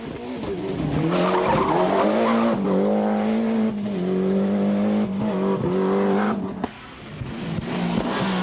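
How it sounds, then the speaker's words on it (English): 1994 Subaru Impreza rally car driving flat out on a tarmac stage of the Ulster Rally, a loud engine revving up and down through gear changes with tyre squeal, passing close. "Fisher in the Mobile 1 Tarmac Impreza is flat out from the word go"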